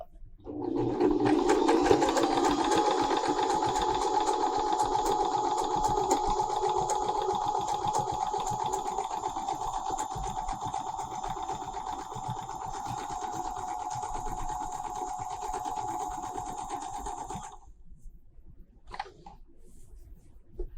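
A longarm quilting machine running steadily in free-motion mode while stitching a quilted door hanging, its continuous motor whir and rapid needle chatter lasting about seventeen seconds before stopping abruptly, followed by brief quiet handling sounds.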